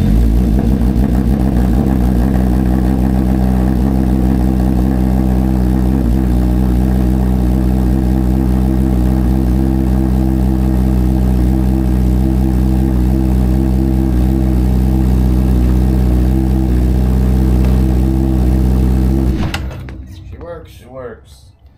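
A 2023 Honda CBR1000RR-R Fireblade fitted with a lowering kit runs loud and close, its engine droning steadily at a high idle with varying revs before cutting off near the end, leaving brief quiet.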